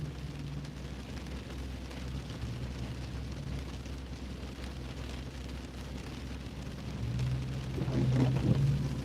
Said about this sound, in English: it is crazy on the rain today